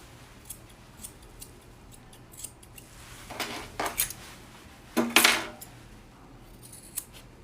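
Grooming scissors trim fur from a dog's paw: a run of quiet, crisp snips builds to a few louder metallic clicks close by, with hushed pauses between them.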